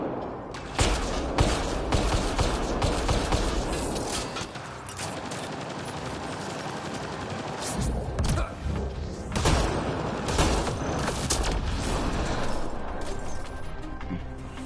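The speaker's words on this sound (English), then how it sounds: "Oh, you're shooting me." Rapid gunfire in Mass Effect: Andromeda, dense bursts of automatic shots with crashes and impacts running continuously throughout, loud and close.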